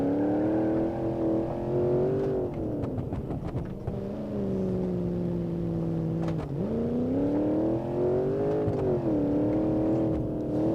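Civetta Bolide engine in BeamNG.drive revving hard, with loud, continuous engine tone that rises and falls repeatedly as the throttle changes.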